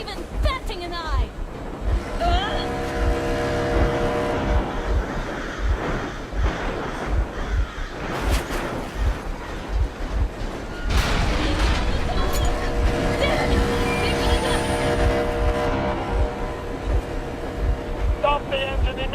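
A vehicle engine idles and runs in the Metro Exodus video game, a loud, steady, rumbling drone that holds throughout, with voices speaking over it.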